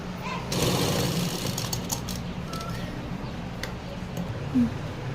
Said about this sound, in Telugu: ఆ గ్యాప్ వచ్చి చక్కగా కుట్టేసేసుకోవాలి